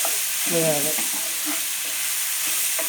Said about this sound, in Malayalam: നമ്മൾക്ക് ചെറുതായിട്ട് ഒന്നുകൂടി എല്ലാം ഒന്ന് യോജിപ്പിച്ചെടുക്കാം